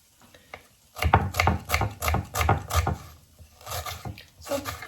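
An onion being chopped on a board, a run of close, fairly loud knife strikes in an uneven rhythm with brief pauses between bursts.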